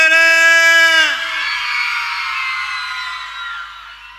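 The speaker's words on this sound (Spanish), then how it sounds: "¡El grito de las mujeres!" A loud, drawn-out collective shout or howl from a crowd of women rises at once and then trails off into a fading cheer, at the Señor de Mayo festival in Santa Cruz.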